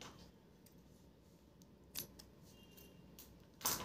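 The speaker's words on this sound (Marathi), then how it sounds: "आणि उरलेला धागा आपल्याला कापून टाकायचा आहे." Small scissors snipping leftover thread on a handmade mangalsutra, a couple of soft, close clicks against a quiet room hiss.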